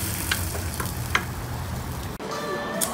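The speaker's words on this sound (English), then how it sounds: "Stir fry spicy mussel." Spicy mussels stir-fry in a pan with a steady close sizzle, crackling pops and occasional utensil scrapes, the frying noise continuing throughout.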